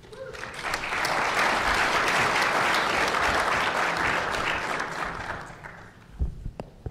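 A conference audience gives a speaker a round of applause, a dense sustained burst of clapping that swells, holds for several seconds, then fades into a few scattered claps and room noise.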